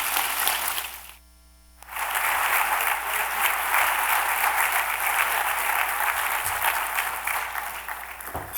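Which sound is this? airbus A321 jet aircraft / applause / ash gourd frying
applause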